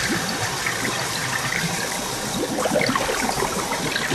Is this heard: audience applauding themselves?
no